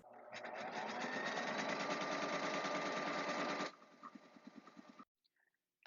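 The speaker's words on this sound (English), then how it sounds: "let's start shirring this" A sewing machine shirring a dress bodice runs in a fast, steady whirring hum close by, then slows into a few separate stitching thumps before stopping and falling silent.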